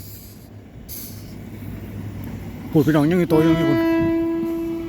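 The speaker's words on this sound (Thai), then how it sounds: "เสียงรถไฟรบกวนเนี่ยพี่น้อง" Rumbling ambience under someone talking gives way to a loud, sustained train horn with a wavering tone, followed by a rising drawn-out whistle nearby.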